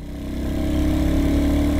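A Royal Enfield Hunter 350 motorcycle runs with its stock exhaust, a loud, close, steady low thump that builds slightly in strength, heard alone without speech.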